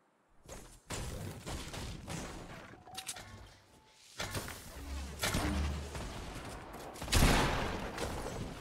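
Repeated loud gunshots and booming blasts in the video game Fortnite ring out in irregular bursts, with thuds between them and almost no talking.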